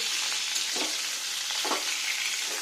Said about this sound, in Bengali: আর একবার নাড়া দিয়ে নিই, এই তেলটাতেই রান্না হয়ে যাবে